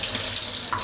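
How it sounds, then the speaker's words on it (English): Hands being washed under a running kitchen tap while baking pumpkin bread: a steady, close splashing rush of water that continues throughout with no talking. "Wash my hands."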